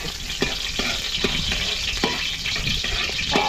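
Garlic sautéing in hot cooking oil, a loud, steady sizzle close by with regular spoon scrapes against the pan roughly every half second, no voices.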